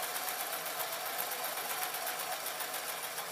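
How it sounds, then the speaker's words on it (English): Sewing machine stitching a small fabric parachute for a toy or mobile, a steady fast whirring hum running close and continuous throughout with no talk. "and then I'm going to sew again."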